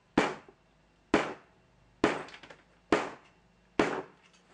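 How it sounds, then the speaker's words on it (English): A hammer pounds denim jeans flat before hemming: five sharp, muffled thuds, evenly spaced about a second apart, each with a short decay, close and alone. "You're going to take your denim and you're going to take the hammer and you're"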